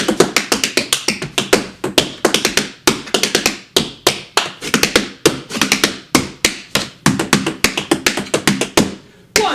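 Intermediate-to-advanced tap dance steps for a St. Patrick's Day routine, a loud close run of crisp rapid taps in quick rhythmic clusters with brief pauses, no voices.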